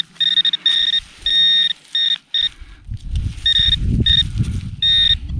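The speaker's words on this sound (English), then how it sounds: "That's a tiny button beeping like that." A metal detector gives repeated sharp electronic beeps in quick bursts as it passes over a tiny button buried in the ground, with scraping and rustling of digging between the tones.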